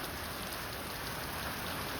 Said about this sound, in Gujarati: તમે વરસાદ જોવો એમનો ખતરનાક વરસાદ પડે